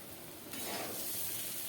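Soaked sabudana hits a hot pan with roasted peanuts and is stirred, bringing a soft hiss that swells into steady close sizzling and frying noise, fairly quiet and brief.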